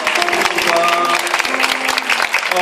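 Steady clapping from an audience at a small church fair, dense and continuous, with faint voices mixed in.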